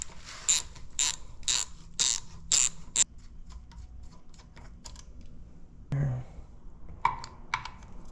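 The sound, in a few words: ratchet removing two 13mm transmission bolts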